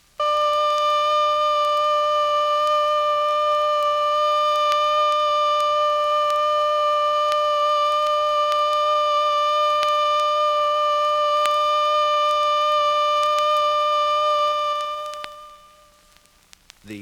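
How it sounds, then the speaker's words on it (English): A civil defense siren sounds a steady alert signal, one unbroken tone held loud and level for about fifteen seconds before cutting off. "The alert signal is a steady blast on a siren or fire horn of 3 to 5 minutes duration."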